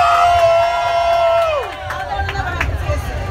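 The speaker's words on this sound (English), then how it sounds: "Round of applause" An audience at a cook-off event between MP Lisa Hanna and Mayor Bill de Blasio cheers and claps, a lively crowd roar with shouts following a sung or held vocal note.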